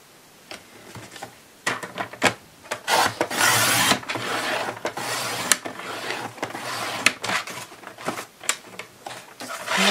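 Scissors or a blade cutting through sheets of cardboard, two small 11.2 by 18.4 cm pieces for a craft book-box, cut from both sides; close, irregular rasping and scraping strokes with sharp crunchy bursts, no talk.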